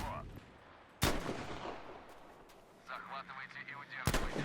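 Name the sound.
gunfire in a video game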